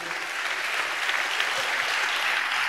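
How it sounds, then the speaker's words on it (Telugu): A church congregation claps hands in praise during worship, a dense, continuous patter of many hands filling the room at an even, moderately loud level. "చప్పట్లు కొడుతూ దేవునికి స్తోత్రాలు చెప్పు"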